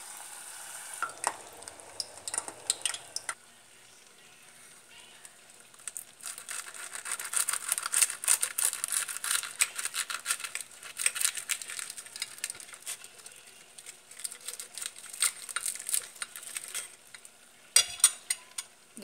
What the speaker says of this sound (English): And deep fry over medium heat.